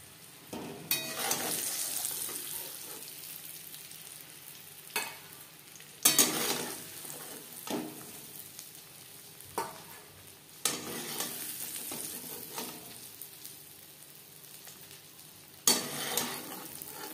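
Flour-coated eggs fry in a pan with a steady, close sizzle and crackle that rises in bursts and holds for the whole stretch, broken by a few sharp clinks and knocks of a utensil against the pan.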